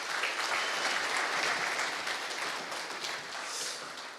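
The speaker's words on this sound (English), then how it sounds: "please give the panel a round of applause" Conference audience applauding a panel at an LPG industry summit, a steady, full round of many hands clapping that continues evenly for several seconds with slight dips in loudness.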